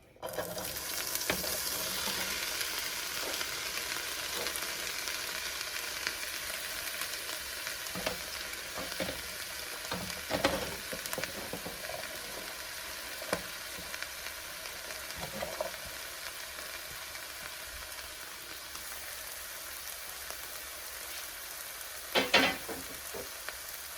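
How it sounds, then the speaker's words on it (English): Cut vegetables sautéing in a pan for Philly cheese sloppy joes, a steady sizzle with a few sharp stirring scrapes and clicks, no talking. "I'm just going to start adding them to the pan."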